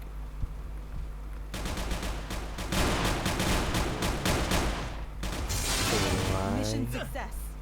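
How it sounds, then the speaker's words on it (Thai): Gunfire in the mobile FPS game Elite Strike, rapid bursts of automatic shots repeating close and loud, with players talking excitedly over the shooting. "เฮ้ยเสียงจี๊ดมากปืนอะไรนะ"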